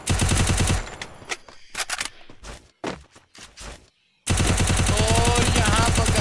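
UMP submachine gun fire in a mobile shooter game, with dense rapid bursts at the start and end and scattered single shots between them.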